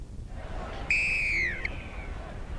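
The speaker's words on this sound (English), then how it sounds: "The sound of Greg Hartley's whistle starts the last quarter" A referee's whistle sounds once, a sharp, loud, slightly falling blast lasting under a second, starting the last quarter of a 1995 State of Origin legends rugby league match over a low crowd murmur.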